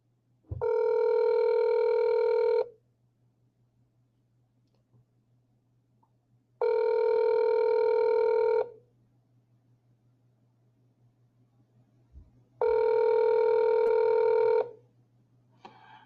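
A telephone rings unanswered in three long, loud tone bursts at steady intervals, with near-silence and a faint steady hum between the rings.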